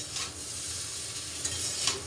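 Chow mein noodles stir-fry in a hot wok, a constant soft sizzling hiss with occasional louder scrapes and crackles, close by and without talk.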